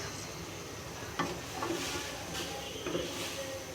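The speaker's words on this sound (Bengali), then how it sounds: "আমি এখন লাল শাক ভাজি করতেছি" Red amaranth leaves stir-fry in a pan with a steady, quiet sizzle, broken by a few soft scrapes and knocks of a spatula, close by with no talking.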